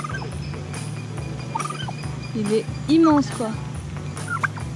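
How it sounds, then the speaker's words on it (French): A turkey gobbles outdoors with a short rattling call amid rustling and low background noise, while a person speaks quietly in French nearby. "Et notre ami le dindon."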